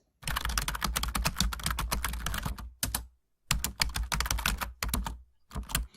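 Computer keyboard typing in quick, steady bursts of keystrokes, close and fairly loud, with short pauses between runs while a compound interest formula is entered; no voices.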